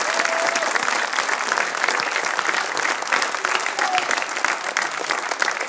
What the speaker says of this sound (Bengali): অনেক অনেক জোরে একটা তালি চাই ফর মোশাররফ